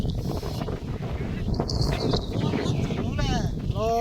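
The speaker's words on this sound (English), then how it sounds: "Lots of wind." Steady wind buffeting a microphone on a cloudy, rainy hilltop trail, a constant loud rush throughout with faint background sounds.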